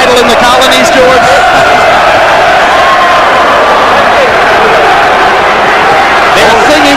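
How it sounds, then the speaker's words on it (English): Boxing arena crowd at a heavyweight title fight, a loud continuous roar of cheering, singing and applause filling the hall, with a commentator talking over it. "They're singing upstairs. They're cheering downstairs. The applause is building."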